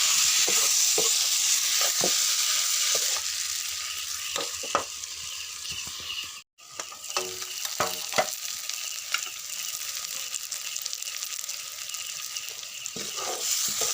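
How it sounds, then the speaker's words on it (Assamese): Meat with tomato and a little potato sizzles steadily in a hot pan, with scattered scraping stirs and utensil clicks over a continuous frying hiss. "অলপ দেৰি ভাজি থাকোঁ"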